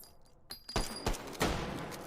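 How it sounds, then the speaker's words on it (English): Model 70 rifle fire in a shooting video game: three or four sharp, loud reports in quick succession, close and punchy, with brief decays between. "He should be able to pick those off with either the Model 70 or his pistol."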